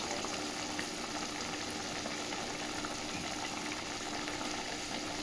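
Bengali boal fish curry gravy boiling in a pan, giving a steady, continuous bubbling hiss that stays fairly soft and close, with no voices over it.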